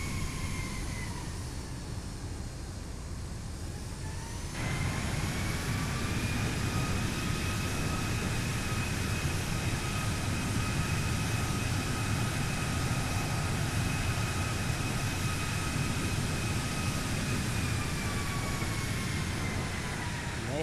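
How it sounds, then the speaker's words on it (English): A Zibo Boeing 737 of Ryanair lands at Biarritz in a flight simulator with reverse thrust applied, a loud continuous engine roar with high whining tones that rises sharply a few seconds in and then holds steady and broad. "Use the reverse thrust, let's say, just a tiny bit off the ground there."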